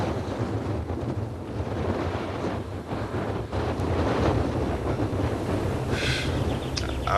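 Strong wind roars past a cyclist on a round-the-world ride, a loud, continuous rumbling buffet against the microphone with surging gusts and no voices.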